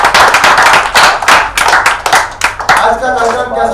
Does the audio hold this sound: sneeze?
no